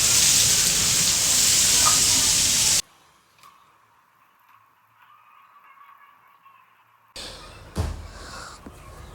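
Rain on a rainy morning at home, a loud steady rush of rainfall for the first few seconds, then a near-silent gap with a faint hum, followed by scattered clatter and knocks.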